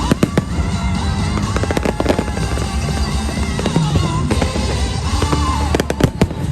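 Fireworks at Disney's Harmonious nighttime show crackle and boom continuously, with dense sharp bursts over a loud, steady background of music and crowd noise.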